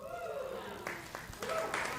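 An audience breaks into scattered applause at a comedy show, clapping rising in bursts over a steady murmur while a voice speaks on top.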